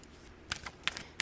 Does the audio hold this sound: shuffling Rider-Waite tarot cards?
yes